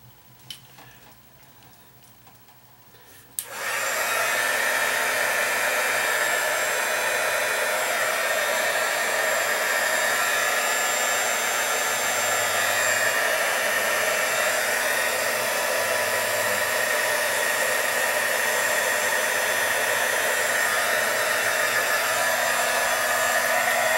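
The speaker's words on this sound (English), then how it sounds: "If you haven't discovered the embossing tool for your toolbox, instead of a heat gun, it's a tiny thing." A small embossing heat tool blows hot air onto heat shrink over solder joints during a Country Aire S 10 fan repair, switching on abruptly after a few seconds of near quiet and then running as a steady, loud, close airy whoosh without talk.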